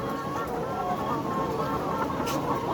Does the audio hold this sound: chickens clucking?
yes